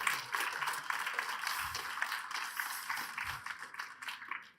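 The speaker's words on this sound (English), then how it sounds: "Let's give them a clap." A church congregation claps for a couple called up to the front, an even patter of many hands that swells briefly and then tapers off.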